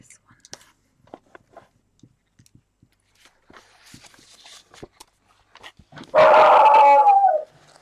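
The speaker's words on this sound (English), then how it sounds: "Don't know what he's barking at." A dog lets out one drawn-out, howling bark that lasts about a second, loud and close, after a stretch of soft rustling and quiet room sounds.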